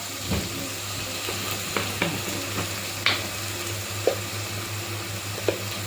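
Onions and spice powders fry in a pan with a soft, continuous sizzle under occasional light taps and scrapes of a stirring spoon, heard close with no voices.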